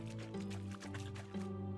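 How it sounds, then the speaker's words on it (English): Brief liquid slurping and gurgling as a character drinks water in the game Medieval Dynasty, a short, close series of wet gulps lasting under two seconds over a low musical background. "let us go and grab a glass of water, or a drink of water from down here"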